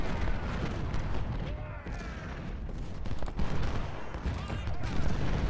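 Continuous musket volleys and artillery fire from the Battle of Shiloh in the Civil War strategy game Ultimate General: Civil War, dense overlapping rattling gunfire and booms.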